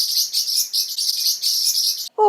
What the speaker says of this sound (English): My bird Bay chimed in and it got a little bit out of control.